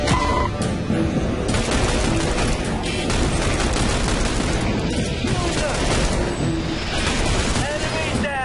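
Bursts of automatic gunfire and explosions fill a Bureau: XCOM Declassified firefight nearly without pause. Loud shots rattle alongside rapid cracks and booms.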